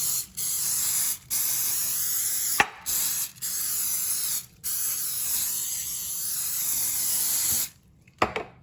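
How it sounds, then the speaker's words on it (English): A cooking spray can hisses in several short bursts and one longer burst while greasing a 13 by 9 baking pan, close and steady, with brief pauses between sprays. "So I'm just going to spray this pan"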